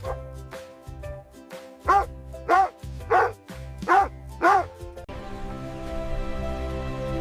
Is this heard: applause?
no